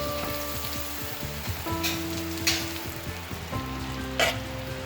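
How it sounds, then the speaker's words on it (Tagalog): Butter melting and sizzling on a hot sizzling plate while cooking pork sisig, giving a steady broadband hiss with a few brief louder crackling bursts, close and continuous with no talk. "Atong i-melt ang butter ha."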